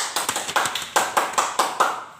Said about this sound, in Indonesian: Tepuk tangan untuk saudara Heril Anwar.